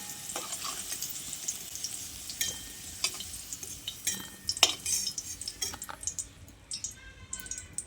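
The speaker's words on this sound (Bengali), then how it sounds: "এবার এই ভাজা আলুটাকে তেল থেকে ছেঁকে তুলে নিচ্ছি।" Fried potatoes are scooped out of hot oil in a home kitchen, a soft sizzle under scattered clinks and scrapes of a slotted spoon against the pan, close and fairly quiet, with no talking.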